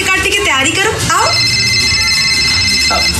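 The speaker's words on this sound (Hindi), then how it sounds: "फोन आ गया।" A telephone rings with a bright, steady electronic tone that starts about a second in and carries on to the end, following a short stretch of speech at the start.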